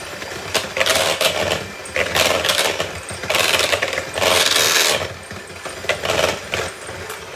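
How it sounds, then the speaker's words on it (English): An electric mixer beats molasses crinkle cookie dough with egg, its whirring burst rising and falling in uneven surges over a few seconds, fairly loud and close in a home kitchen. "But when you using a mixer, you have to beat it."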